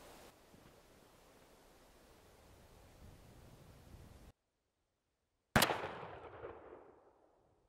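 A shotgun fires a Winchester Double X 2-ounce turkey load at a 40-yard target: after a low rumble of outdoor noise and a brief silence, one loud, sharp blast rings out and decays over a couple of seconds.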